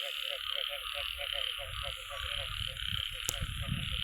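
Frogs croak outdoors during a frog-catching outing, a rapid rhythmic series of short, close calls repeating over a constant shrill insect chorus, with some low rustling and one sharp click near the end.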